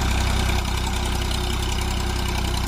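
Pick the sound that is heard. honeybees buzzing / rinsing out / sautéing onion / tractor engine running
tractor engine running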